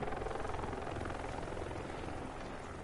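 Steady rotor drone and whir of a helicopter in the video game Batman: Arkham Knight, loud and continuous throughout with a dense rumbling texture.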